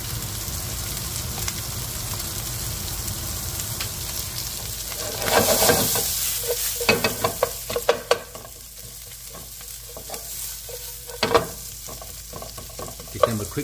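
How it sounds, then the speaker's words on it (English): Ginger, garlic and chili stir-frying in hot oil for lo mein, a steady close sizzle that gives way to a run of sharp scraping and clattering stirs of a spatula in the pan, with no talk. "Give them a quick stir."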